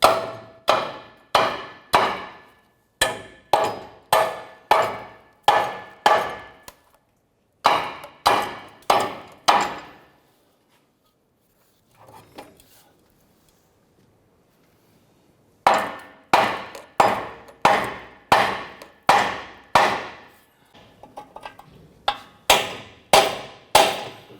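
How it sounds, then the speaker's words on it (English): Loud, sharp hammer blows on a 2006-2013 Chevy Impala's exhaust pipes, in quick rhythmic bursts of four to six strikes, pausing briefly, then resuming after a quiet gap with faint scraping. "we're going to use our hammer and we're going to try and separate the two pipes"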